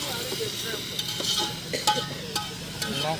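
Onion and spice masala for chicken is fried in a pot at an outdoor company picnic, a steady sizzle with repeated scraping clanks of stirring, close and fairly loud.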